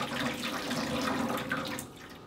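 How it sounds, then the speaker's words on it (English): Wet plant-dyed yarn, just lifted from an avocado or onion skin dye bath, drips and trickles excess water steadily, a close, continuous watery patter with no talking. "I'm just letting it drip for a second to get some of the excess water out."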